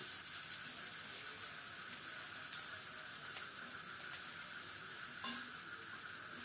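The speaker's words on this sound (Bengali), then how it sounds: "সব মিলিয়ে আবারও একটু নেড়ে চেড়ে ভেজে নিচ্ছি" Crushed garlic and chopped green chilies frying in hot oil while being stirred, a soft, even sizzle with faint scraping touches throughout.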